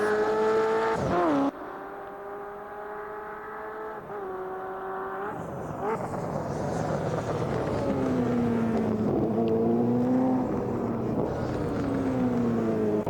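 GTE race cars out on track for qualifying at the Long Beach street circuit, engines droning and revving with shifting pitch as they pass, a steady loud roar throughout with no talk.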